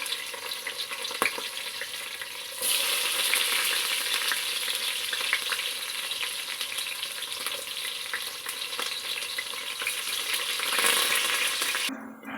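Onion and green chillies fry in a pan with a loud, close, continuous sizzle, broken by scraping stirs and occasional clinks, no voices.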